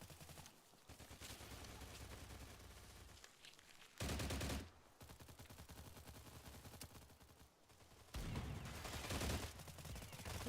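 Sustained bursts of automatic gunfire from the STALCRAFT video game, loud and dense, with several heavier volleys standing out among continuous shooting and no talk.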